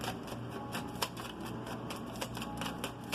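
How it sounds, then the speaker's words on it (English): Tarot cards are shuffled by hand in quick, soft, papery riffles and taps that run on steadily for a few seconds, close and fairly quiet, with no talk. "shuffling the cards"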